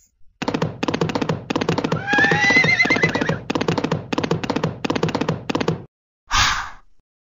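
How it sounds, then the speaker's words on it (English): A horse whinnies, a rising then falling neigh sounding over a quick run of rhythmic, hoof-like beats, followed by a short pause and one final burst. "Horses."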